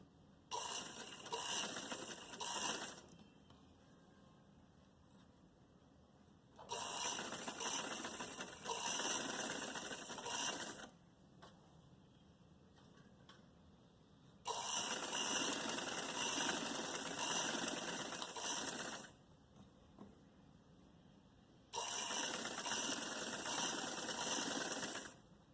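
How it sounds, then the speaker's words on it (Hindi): A sewing machine stitches a narrow salwar over buckram in four bursts of rapid, steady whirring, each a few seconds long and separated by quiet pauses, heard close and alone. "तो अब मैं यहाँ से सिलाई शुरू करूँगी। सिलाई जो है मैं बुकरम के ऊपर करूँगी"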